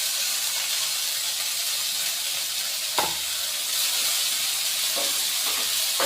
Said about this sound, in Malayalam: വെളിച്ചെണ്ണ ചൂടായിട്ടുണ്ട്. ഇനി ചെമ്മീൻ എളുപ്പത്തോട്ട് ഇടുന്നു.